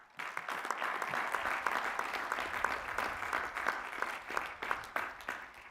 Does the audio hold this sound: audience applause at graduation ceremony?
yes